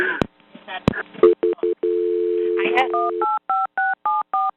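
Touch-tone dialing beeps sound as a 911 emergency call is transferred over the telephone: a run of short, evenly spaced tones after brief speech and a steady line tone.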